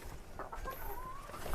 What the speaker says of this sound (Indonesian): Wah, lihat ayam.